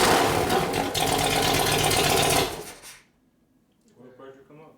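An S&S 93ci Evo engine in a 1999 Harley panhead bobber, under repair for no oil pressure, roars loudly up close for about two and a half seconds, then cuts off and falls quiet before faint sounds and a voice return.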